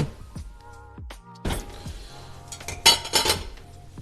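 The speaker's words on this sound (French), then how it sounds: "Donc, on va se prendre une casserole." Metal cooking pot clanks and scrapes as it is lifted and set down, a few sharp clinks and knocks close by with no talking.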